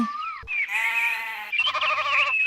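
Goats raised on a farm bleat in two long, wavering cries close by, one after the other with only a brief gap between them.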